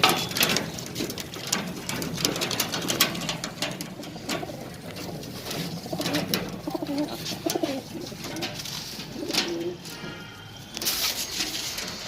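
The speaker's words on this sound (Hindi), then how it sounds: "ये पूरे काले घेरे कबूतर हैं।" Black-ringed Rajasthani desi high-flyer pigeons in a loft cooing, soft throaty coos repeating irregularly, close by, with wing flutters and scattered clicks and rustling around them.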